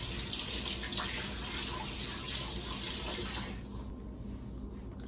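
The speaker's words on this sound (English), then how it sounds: "I should wash my hands." A kitchen tap runs steadily for hand washing, a close, continuous hiss of flowing water that thins out toward the end.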